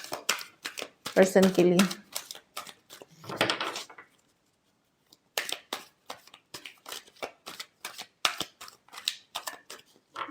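Tarot cards shuffled by hand in short crisp riffles and flicks, close and fairly loud, in bursts with a brief silent gap midway, while someone speaks between them.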